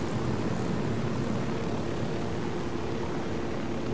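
Aircraft in flight in Ghost Recon Wildlands, a steady, dense engine drone that holds at constant loudness throughout, with no speech.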